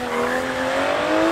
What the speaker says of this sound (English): The car is so controlled.